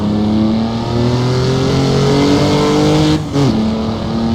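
A naturally aspirated race car engine in the Targa Florio sim drones loud and close under hard throttle, pitch climbing steadily, then briefly dips on a lift-off around a corner before pulling again.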